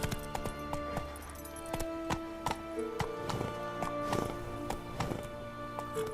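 Horse hooves clip-clop at a fast galloping pace in The Witcher 3: Wild Hunt, a steady stream of thuds with tonal game music running beneath, fairly close and moderately loud.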